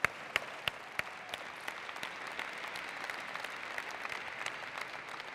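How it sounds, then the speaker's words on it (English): Audience applause at a Martin Luther King Jr. Day celebration luncheon, greeting a panel. Steady, moderately loud clapping with a few sharp near claps at the start, and no voices. "let's begin by giving a round of applause to our brave panelists"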